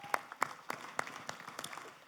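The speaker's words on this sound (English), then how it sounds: "Can we clap for him," A handful of scattered, separate hand claps from a small audience at a tech talk on web accessibility; faint and sparse, about eight distinct claps spread over two seconds.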